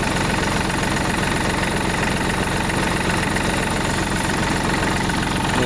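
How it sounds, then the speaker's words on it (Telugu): A heavy Tata truck engine idles steadily, a dense, continuous low rumble with throbbing vibration and no pauses. "ఇది ఇంజన్ సౌండ్."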